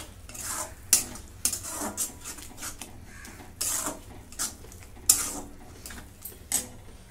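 A spoon scrapes around a pan while a melted jaggery, sugar, ghee and milk mixture is stirred for carrot semolina barfi, in repeated close metallic strokes with a faint sizzle underneath.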